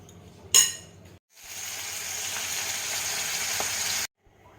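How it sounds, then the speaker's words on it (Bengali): Small mola carplet fish frying in hot oil, a steady loud sizzle lasting about three seconds after a short clatter, then cutting off abruptly. "এবার আমি মোড়লা মাছগুলোকে ভেজে নেবো"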